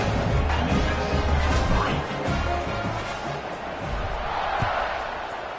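Stadium crowd in the NCAA 26 college football video game, UTEP vs Memphis, a loud, steady roar at kickoff with a few sharper bursts rising out of the din.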